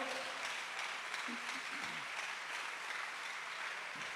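Faint, distant applause from a congregation during a church service, soft steady clapping with a few voices calling out over it.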